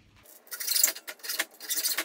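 A hand saw cuts through wood during an IKEA upper cabinet installation, giving rhythmic rasping strokes, about five back-and-forth passes close by with brief gaps between them.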